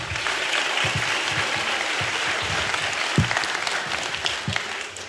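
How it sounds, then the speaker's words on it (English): The crowd at a DEF CON 22 conference talk claps steadily for the speaker Michele. The applause is dense and close, with a few louder individual claps standing out. "So everybody, big round of applause for Michele."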